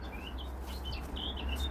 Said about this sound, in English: Listen to the bird song.